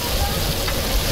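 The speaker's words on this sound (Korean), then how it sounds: "불판이 녹두전, 고기전이 지글지글 구워지고" Mung bean and meat pancakes sizzle on a griddle at a traditional market in Seoul: a steady, loud, broadband crackle of frying oil that continues without a break.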